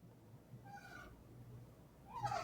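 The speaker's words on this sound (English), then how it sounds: "Sorry, my cat, if you can hear her crying," A cat meows twice, faint and a little distant, the second cry louder and higher, over a quiet low hum.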